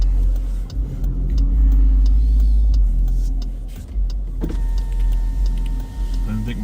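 Car making a strange mechanical noise, a loud low rumbling drone with a whirring, motor-like quality that shifts midway, with some background voices.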